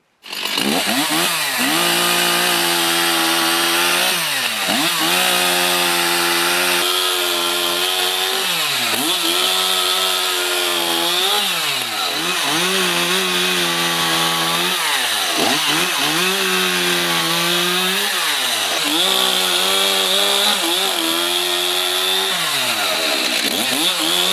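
A loud, freshly hand-sharpened chainsaw engine drones steadily and repeatedly bogs down and revs up as it cuts into wood, close by and continuous.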